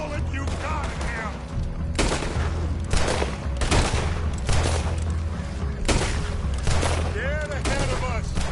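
Dense gunfire crackles through a Red Dead Redemption 2 shootout, with rapid rifle and pistol shots and booming blasts layered over in-game shouting voices, loud and continuous throughout.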